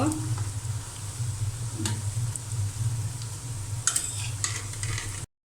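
Cabbage pakoras fry in oil with a steady sizzle as they are stirred and flipped, plus a few sharp scraping clicks from the utensil, all close and continuous, with no talking.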